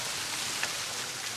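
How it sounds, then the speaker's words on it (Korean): Water flowing near a small waterfall in the Bali jungle, a soft, steady rushing hiss like rain, faint and unbroken, with no voices. "물소리가 들려요."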